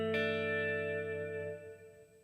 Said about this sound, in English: After this, it's the Hall of Fame 2 reverb.